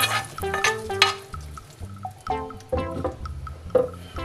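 Pork pieces dropped into a pan of simmering water with garlic for pancit, giving busy clinking, stirring and liquid bubbling with several loud bursts of clatter and splashing, close up.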